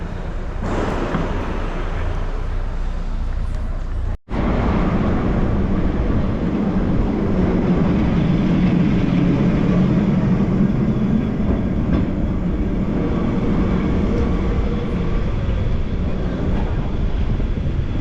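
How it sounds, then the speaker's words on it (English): A Lisbon street tram rumbles past close by, a steady loud rolling and rattling along the rails for the whole stretch with one brief dropout early on, no voices over it. "one way to avoid the super steep hills in Lisbon is to catch these trams"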